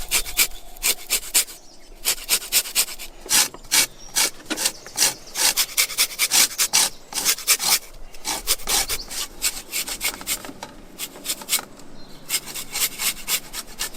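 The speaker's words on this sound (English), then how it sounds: "you could either use a peeler or a grater, but just get all that yellow outer layer into your vat." Lemons are rubbed over a grater to strip the yellow zest for elderflower champagne, a close, steady run of rasping scrapes repeating in quick rhythmic strokes with brief pauses between passes.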